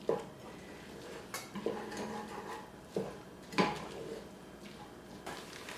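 Garlic, poultry seasoning and pepper are stirred in a bowl, giving a string of light clinks and scrapes of a utensil against the bowl at an uneven pace, close and fairly quiet.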